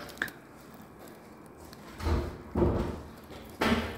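A single door in a house's bathroom area is handled, with a sharp knock near the start followed by three dull thuds and rattles, close and moderately quiet with no talking.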